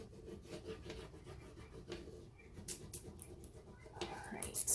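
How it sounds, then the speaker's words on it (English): A transfer being rubbed onto a window pane, a soft dry scratchy rubbing in repeated short strokes, close and quiet, growing firmer toward the end. "Rub it on, especially this area where the transfer has more details"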